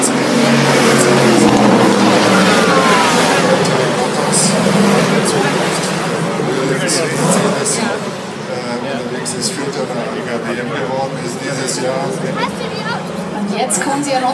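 Several cars roar past with revving engines, loud at first and easing slightly as they move on, with people talking underneath.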